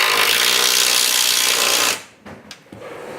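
A power impact gun runs in reverse, backing out the strut bolts on a 2005 Ford Taurus front strut assembly. A loud, steady whir holds for about two seconds, then cuts off, leaving a few faint clicks and knocks.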